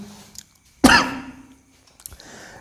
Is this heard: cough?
yes